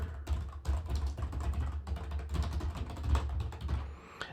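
Rapid, irregular keystrokes on a computer keyboard, close and steady throughout with no voice over them.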